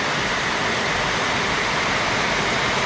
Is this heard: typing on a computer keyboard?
no